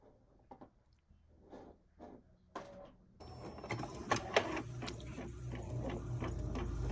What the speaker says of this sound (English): So now we're printing.